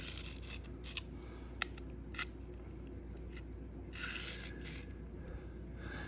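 An S110V steel knife drawn across a Sharpal field sharpener to even out a burr, giving soft, steady rasping strokes with a few sharper scrapes, close and fairly quiet, with no talking.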